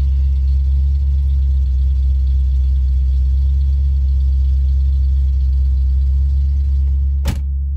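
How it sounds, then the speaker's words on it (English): A 1976 C3 Corvette engine idles steadily and loud, a constant low rumble throughout, with a brief sharp click near the end. "She hasn't been fired up in a couple of weeks now, so let's see how she does."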